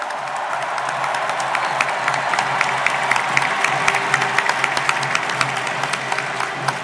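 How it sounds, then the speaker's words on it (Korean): Warm, sustained applause from a large crowd at a Democratic Party presidential primary convention, dense and loud throughout, with scattered sharper claps standing out of the wash. "새 동지의 모습을 뜨거운 박수와 함께 기억해 주십시오."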